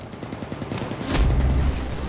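Rapid bursts of video game gunfire from Battlefield 3 crackle in a fast rhythm, then a heavier low boom rolls in midway and sustains, all loud and close with no talking.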